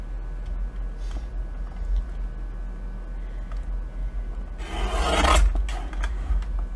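Scissors cutting a thin strip off a notebook page, a short crisp rasping snip near the end over a low steady hum.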